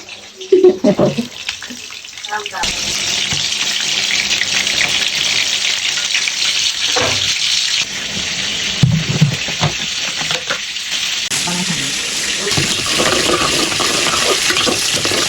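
Pieces of meat for a home-cooked Eid roast fry in a pan, making a continuous hissing sizzle that sets in after a few seconds of clatter and keeps going with occasional stirring knocks.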